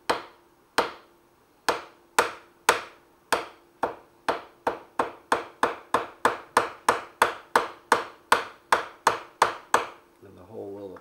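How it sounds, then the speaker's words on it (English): A ball peen hammer taps the metal of a 1955 Buick Century power steering gear over and over, sharp ringing strikes that start spaced out and quicken into a steady rhythm, close and clear. "take a ball peen hammer. Just gently tap where the hole is."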